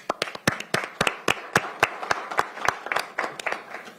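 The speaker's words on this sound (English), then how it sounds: "round of applause" At a Pierce council meeting, a small audience gives sparse applause: a handful of distinct, crisp claps in an uneven rhythm, close and moderately loud, with no talk over them.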